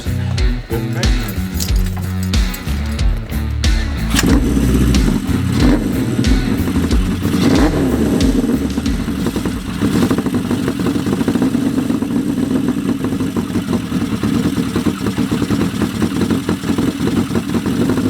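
A Honda CB400F motorcycle engine runs after carburetor needle adjustments, a loud, steady close-up running note with metallic clinks and clatter over it, uninterrupted throughout.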